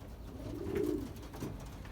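Breeding pigeons cooing in a loft, a low, soft, rolling coo swelling and fading, with a second shorter coo following, fairly close against a steady background hum.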